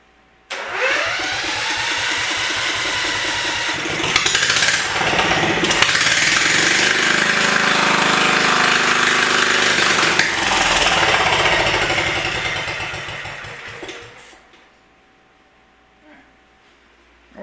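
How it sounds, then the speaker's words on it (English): A loud small wood chipper engine fitted with a small muffler roars steadily for about fourteen seconds with a rough, rattling exhaust note, then cuts out and falls quiet. "start the engine and see what a difference that little small amount of muffler makes on it"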